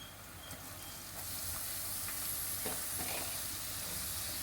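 Carrot, capsicum and cabbage hit a pan of lightly roasted garlic and sizzle, a steady soft hiss that swells after a second and holds evenly with a few faint stirring clinks, no voices.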